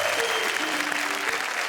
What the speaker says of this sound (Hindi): ये सारी तालियां मुझे काका जी की वजह से मिल रही हैं